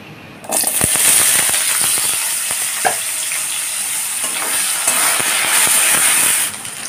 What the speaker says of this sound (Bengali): গ্যাসটাকে হাই ফ্লেমে করেই আলুগুলোকে ভেজে নিচ্ছি।